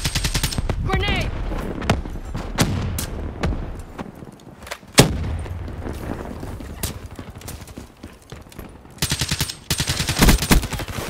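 Rapid bursts of gunfire ring out in the video game Black Ops 3, with automatic fire and single shots in uneven clusters, loud and close, while a voice talks intermittently.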